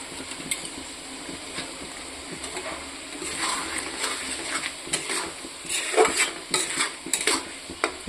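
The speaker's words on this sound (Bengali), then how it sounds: "এখন কিছুক্ষণ আমি ভাজবো।" Beans frying in a pan are stirred, with a steady soft sizzle under scraping and clinking utensil strokes that grow busier toward the end, close up and with no talking.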